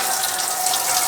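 A temporary hose hookup on a boat leaks, giving a steady close hiss of spraying water that holds unbroken for about a second.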